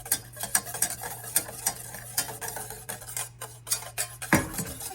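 A spoon clinks and scrapes rhythmically around a pot as butter melts over medium heat, soft repeated taps and stirring strokes close by, with a faint low hum underneath.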